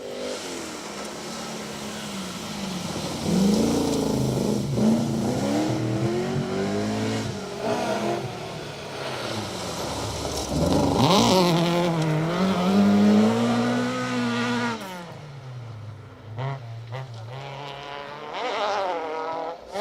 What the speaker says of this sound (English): It does sound like there's a V8 rumbling there.